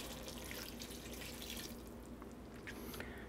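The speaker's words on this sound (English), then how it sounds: "I'm going to add more liquid to that pan. This is 1 cup of beef stock." Beef stock poured into a pan of cooking vegetables for an Asado Negro dish, a soft continuous splashing and trickling of liquid under faint sizzling, easing off toward the end with a brief clatter at the close.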